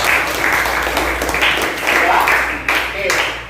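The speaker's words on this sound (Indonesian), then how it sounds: "Tepuk tangan dulu untuk kita semua." A class applauds together at the end of a lesson, steady close clapping lasting a few seconds with a voice speaking over it.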